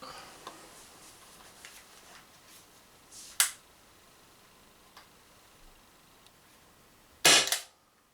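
An Umarex Impax P68 CO2 air pistol, with gas running low, fires two sharp shots several seconds apart. The second is louder and longer, with faint ticks and clicks from the gun in between.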